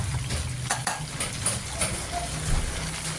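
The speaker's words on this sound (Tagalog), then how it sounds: "habang medyo natutunaw-tunaw na ang margarine, nilagay niya na ng sibuyas at bawang" Onion and garlic frying in melting margarine give off a steady close sizzle and hiss, with scattered light clinks and scrapes of stirring throughout.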